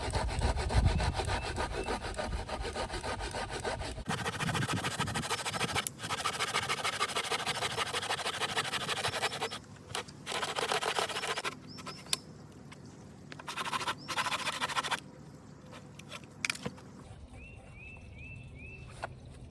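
A hand saw cuts through a piece of driftwood meant for a 150-gallon freshwater aquarium, with steady close back-and-forth strokes that rasp continuously and pause briefly now and then.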